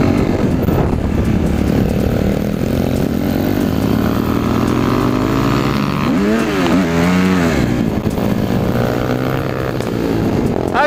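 A 250cc motorcycle engine droning loudly while riding, with a steady close roar and a rising-then-falling pitch sweep midway as the rider accelerates and eases off.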